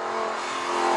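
Lamborghini with e-gear transmission accelerating in Corsa mode, its engine giving a loud, continuous rising roar that fills the whole second without a break.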